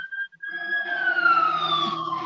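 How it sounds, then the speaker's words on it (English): An ambulance siren wails from outside an open window, a single drawn-out tone sliding gradually lower as the vehicle passes, moderately distant and heard alone after a brief quiet start. "An ambulance just drove by and I had my window open."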